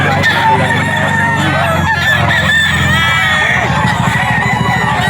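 Loud, dense clucking and crowing from many chickens and roosters close by, with people talking over the flock.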